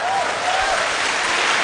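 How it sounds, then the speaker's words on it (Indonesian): A live studio audience at an Indonesian televised public forum applauds, a brief, loud, steady burst of clapping filling the moment. "Oke, kita kasih tepuk tangan."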